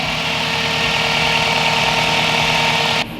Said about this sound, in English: As you can hear, the fan is on.